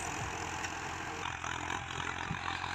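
Arjun 605 DI tractor engine pulling a 20-disc Field King harrow through a field, a steady loud rumbling drone with little variation throughout, no talking.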